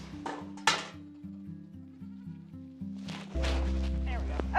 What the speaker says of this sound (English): Hey, goats! What are we up to today?